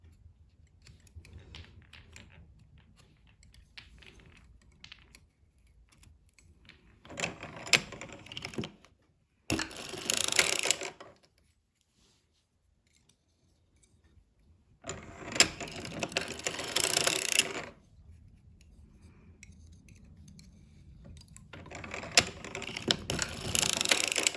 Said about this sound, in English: So this particular machine that I'm working on today is my 1924 Gearhart.